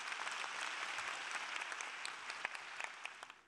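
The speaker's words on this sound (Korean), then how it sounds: "우리 두 분께 박수 한번 좀 드리도록 하겠습니다." Church youth gathering audience claps for a married couple, a soft, fairly distant round of applause with scattered sharper individual claps standing out, tapering off at the end.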